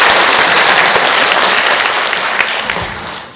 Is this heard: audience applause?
yes